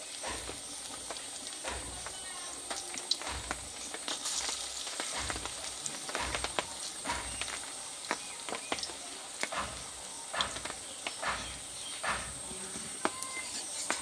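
Three puffed rice snack pieces fry in a small amount of oil, giving a soft, continuous sizzle with scattered crackles and pops throughout, quiet and close.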